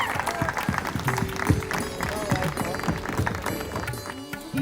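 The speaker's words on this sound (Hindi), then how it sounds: "तालियों की गड़गड़ाहट से उनका स्वागत हो।" Applause and crowd noise at an anniversary celebration for Happy Faces Vadodara welcoming Piyush sir, busy and uneven with music-like tones and voices mixed in over the clapping.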